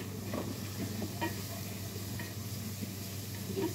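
Chicken seasoned with black pepper sautés in a pan for a spaghetti dish, giving a close, steady sizzle with the scrape and clatter of stirring throughout and no talking.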